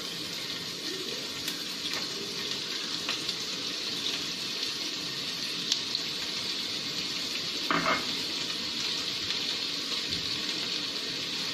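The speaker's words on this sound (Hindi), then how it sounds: "सबसे पहले हम प्याज को अच्छे से भून लेते हैं।" Two medium chopped onions fry in oil in a pan, a steady, close sizzle with occasional light clinks and stirring scrapes, continuing without talk.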